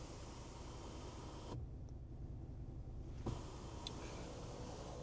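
An electric cloth sunshade motor in a car closes, a faint whirring hum inside a quiet cabin that runs for a couple of seconds before stopping.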